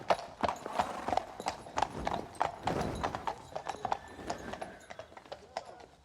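Four horses pull a carriage, their hooves clip-clopping in a brisk, uneven rhythm close by against a busy background.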